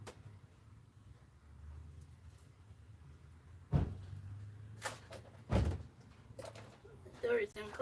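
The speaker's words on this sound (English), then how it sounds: "The door is gonna close." Indoors, a door closes in a few heavy thunks amid quiet room noise, two loud knocks close together and smaller bumps after them, with people talking softly around them.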